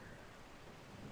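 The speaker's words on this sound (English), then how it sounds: "No, it's raining." Faint, steady rain hisses with a low rumble of thunder underneath in the Skyrim video game, a soft continuous wash of weather with no voices.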